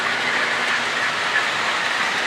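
A model train runs on a Reading Lines basement layout, a steady close rolling hum and clatter without pauses or talk.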